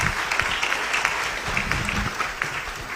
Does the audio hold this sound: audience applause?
yes